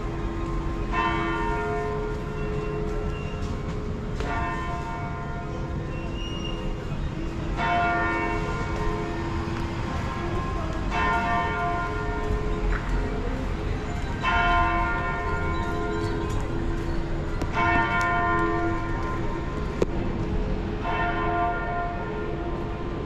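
A church bell rings in Munich's Old Town, its strikes spaced a few seconds apart, each one leaving a long ringing tail over a steady outdoor hum of the street.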